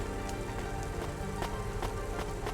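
Steady rain pattering on surfaces in the Cloudpunk video game, a dense continuous wash of drops at even loudness with no talk.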